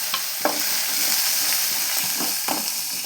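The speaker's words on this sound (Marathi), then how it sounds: "त्याला छान असं भाजून घ्यायचं." Ridge gourd roasting in oil with cumin, a close, loud sizzle broken by a few sharp spatula scrapes against the pan.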